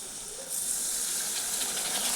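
Water poured into a pan of frying cumin, turmeric and chilli for vegetarian ghugni bursts into a loud, hissing sizzle. The sizzle holds steady and close, with no voices.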